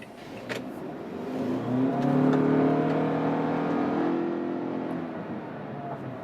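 A 2015 Toyota Camry hybrid accelerates hard, its engine rising into a steady, loud drone that swells over a few seconds, then eases slightly, heard from inside the car with no talking.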